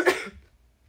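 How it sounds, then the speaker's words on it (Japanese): A single short cough, close and fairly loud, fading quickly into quiet. "時々咳込んでた。"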